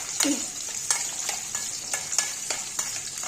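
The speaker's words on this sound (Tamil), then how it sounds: "இதை நல்லா வதக்கி விட்டுக்கலாம்" Ingredients for a vegetarian banana flower kuzhambu sautéing in a pan: a steady oily sizzle punctuated by regular scraping stirs, close and moderately loud, with no talking.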